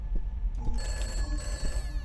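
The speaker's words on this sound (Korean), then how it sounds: "전화 왔다" Old telephone bell ringing nearby, a bright continuous trill that starts partway in over low background rumble.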